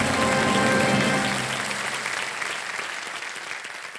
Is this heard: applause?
yes